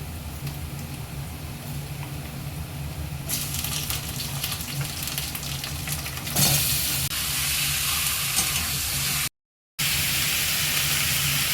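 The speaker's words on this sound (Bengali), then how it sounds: "পেঁয়াজটা ভাজা হয়ে গেছে, এবার মাংসগুলো ভেজে নিচ্ছি।" Chicken pieces frying in a pan after onions were browned, a steady hiss that grows louder and brighter partway through, with a brief cut to silence near the end.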